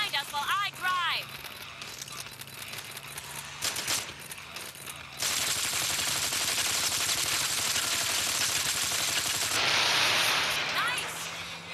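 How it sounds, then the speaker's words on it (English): Sustained automatic gunfire from a weapon in the video game Gangstar Vegas, fired during a car chase, rattling continuously and loudly for most of the stretch, with speech and game sounds earlier and underneath. "take this gun and shoot at the asshole behind us while I drive"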